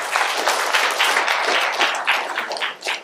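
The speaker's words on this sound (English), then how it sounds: "Round of applause" An audience at a talk on time management breaks into applause, a full, even wash of many hands clapping that holds steady and thins slightly near the end.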